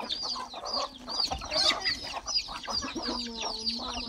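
Free-range village hens on a grandmother's farm cluck repeatedly in overlapping bursts, close by and fairly lively, with no one talking.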